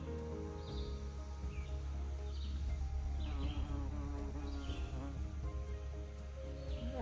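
A steady, close drone of buzzing bees runs throughout, with a few faint bird chirps high above it.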